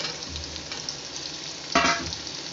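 Chopped onion and bell pepper (capsicum) frying in a pan for chilli parotta, with a steady soft sizzle and a louder crackling burst as more pieces go in.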